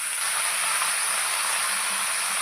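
Cut vegetables dropped into hot mustard oil give off a loud, continuous high hiss of sizzling, steady and close, with no talking over it.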